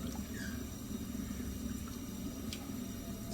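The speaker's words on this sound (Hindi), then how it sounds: "डालेंगे पानी" Water pouring steadily into a cooking pot of rice for pulao, a soft continuous splashing and gurgle, close but fairly quiet over a low background rumble.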